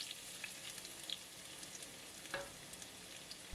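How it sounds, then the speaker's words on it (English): Chopped garlic stir-fries in hot oil in a cast iron pan, a faint steady sizzle with a few light stirring scrapes. "Stir fry and cook for another minute or until golden brown"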